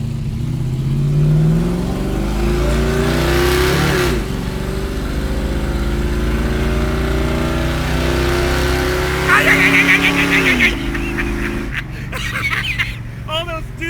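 A 1973 Plymouth Duster's engine drones and revs while a speedometer cable chatters with a buzzy rattle during driving, loud and continuous, with people talking over it.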